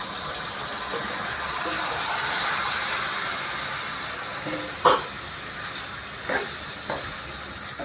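Chicken, washed and rubbed with lemon and salt, sizzles steadily in hot spiced oil tempering, with a few sharp clatters of stirring toward the end.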